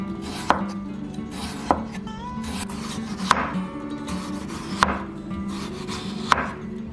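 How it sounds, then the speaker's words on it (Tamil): Potatoes are sliced into thin chip-style rounds with a knife on a board, five crisp chopping knocks landing at roughly even intervals over a soft continuous background hum, close and clear with no voices. "ஸ்லைஸாக சிப்ஸுக்கு வர்றது மாதிரி கட் பண்ணிக்கலாம்."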